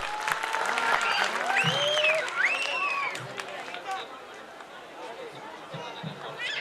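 An audience at a qawwali program during a dargah urs festival applauds to welcome a guest, a dense wash of clapping that starts loud and gradually thins. Warbling tones and voices sound in the hall over the claps.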